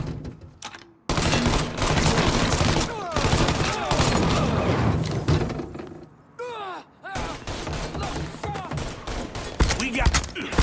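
Heavy gunfire fills a Mafia 3 shootout, with sustained bursts and rapid shots hammering almost continuously, broken by brief lulls, close and loud, while voices shout over the din.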